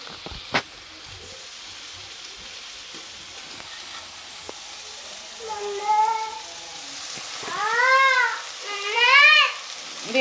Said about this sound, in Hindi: ये चावल हो रहे हैं फ्राई